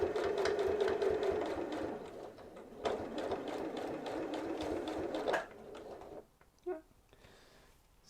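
A sewing machine stitches binding onto a hanging storage pocket project, running steadily for about five seconds with a brief pause, then stopping into quiet with a few faint handling sounds.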